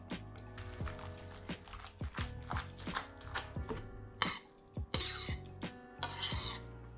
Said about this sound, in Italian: mi aiuto con una leccapentole e aggiungo la nostra crema